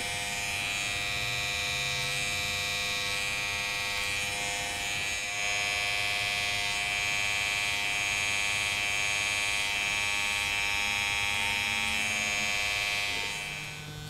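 Electric hair clipper tapering a beard during a fade and beard trim, a continuous bright motor buzz held close and steady for the whole stretch, with slight shifts in load.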